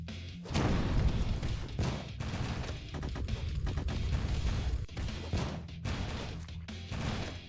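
Ballistic boom ability explosions in the game Cinderia, a rapid series of heavy crashing thuds and impacts layered over dense battle noise, loud and sustained with brief gaps.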